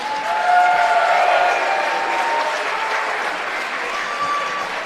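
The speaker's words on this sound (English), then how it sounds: "A round of applause for both these combatants." An arena crowd applauds after a heavyweight combat-sports bout, a dense, continuous roar of many hands clapping that swells early and then holds steady, with shouts and whistles mixed in.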